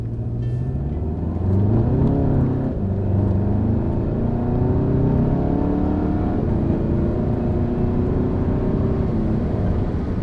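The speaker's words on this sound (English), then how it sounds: "we're gonna mimic taking off from a red light in drive mode." A tuned VW GTI with a Stage 1 ECU and transmission tune pulling away from a standstill in drive mode: a throaty engine note climbing through several rapid upshifts, each rising sweep cut short by a quick shift, heard steadily from the cabin.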